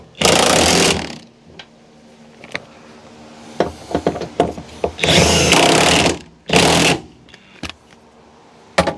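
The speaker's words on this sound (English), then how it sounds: "I decided to use a clamp. It's gonna get noisy, gonna tighten this down." A power tool tightens a clamp while a Goose gear plate system is being installed, in several loud whirring bursts of a second or so each, separated by short gaps with small clicks and handling knocks.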